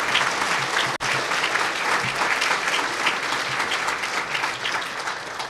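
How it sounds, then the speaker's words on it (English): A banquet-hall crowd at an awards dinner breaks into sustained, dense applause, loud and steady from start to finish, many hands clapping together with no talking on top. "I think a round of applause is definitely in order."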